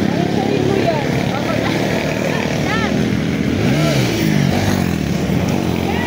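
Motorcycle engines drone steadily and loudly at close range on a mountain road, the tone rising and falling as bikes pass, while people talk excitedly over the noise.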